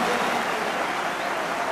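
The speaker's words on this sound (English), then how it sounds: "he deserves a warm round of applause" A football stadium crowd applauds a player being substituted off, a dense, steady wash of clapping from many spectators heard at a distance, continuous throughout with no distinct voices.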